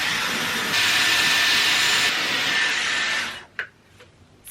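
Dyson Airwrap fitted with its standard dryer attachment blowing on hair at home, a steady loud whooshing hiss that swells slightly in the middle, then cuts off, leaving brief faint clicks and rustles.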